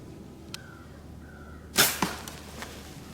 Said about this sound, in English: The impact you hear is my arrow burying into an old stump after deflecting off the limb.